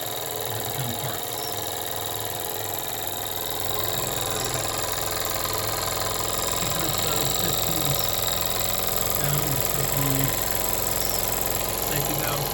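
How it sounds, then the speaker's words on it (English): A Jensen 75EL live steam engine with dual-fuel firing and a built-in variac has its safety valves lifting, a steady high hiss over the engine's continuous mechanical rumble, loud and sustained throughout. "Safety valves lifting."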